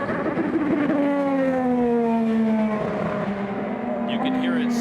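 An IndyCar with engine trouble and a fuel pickup fault idles and coasts down pit road, its engine note rough, steady and loud for several seconds.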